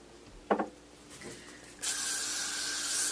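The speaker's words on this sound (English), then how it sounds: "Spray the hair." Aerosol hair spray misted onto cheer hair, a steady close hiss starting after a couple of brief handling sounds and continuing to the end.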